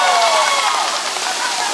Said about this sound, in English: Made it to the waterfalls.